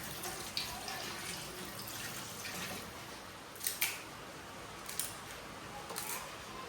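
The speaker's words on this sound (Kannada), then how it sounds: "ನೀರು ಹಾಕ್ತಾ ಇದ್ದಾರೆ." Water poured into a pot of marinated mutton and fried onions for a home-cooked mutton curry, a steady wash of pouring noise with a few soft clinks of the vessel, fairly quiet and with no talk.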